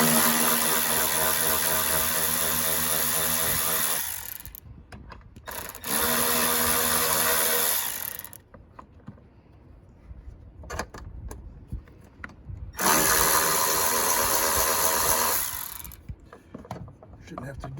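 Ratchet wrench backing out the 10 mm battery hold-down bolts on an Acura TLX, loud rapid clicking in three bursts of several seconds with quieter fiddling and metal handling between them.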